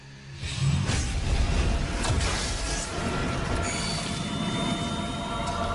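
A cartoon train rumbles past loudly and continuously, with metallic wheel squeal and a thin high whine rising over the steady rolling noise.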